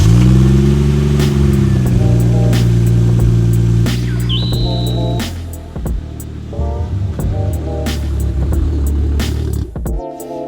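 A turbocharged Toyota Supra MK4 A80 engine running loud and close, with a strong steady idle and rev swells, a brief high whine, then dropping to a rougher lower idle before cutting off near the end.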